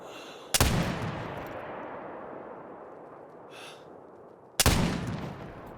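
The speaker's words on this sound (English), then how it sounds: "I'm shooting at the bottom of the 8." Two loud shots from a Curman .50 inline rifle in the hunting game theHunter: Call of the Wild come about four seconds apart. Each sharp crack is followed by a long rumbling echo that fades into quiet ambience.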